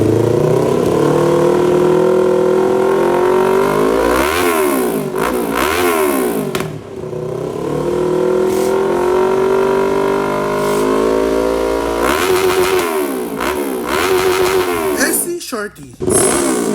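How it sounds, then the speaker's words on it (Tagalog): Kawasaki Z500 motorcycle fitted with a V-Lane Shorty muffler, revved repeatedly in loud close bursts that rise and fall, with a throaty idle between blips. "Soundcheck tayo ng iba't ibang muffler para makapili si Sir."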